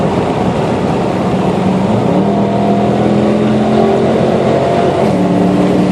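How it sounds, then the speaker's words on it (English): A heavily modified Ford Mustang passes on a race track, its loud engine droning steadily with rising revving tones throughout, close and continuous, no talk. "So here I let another Mustang pass."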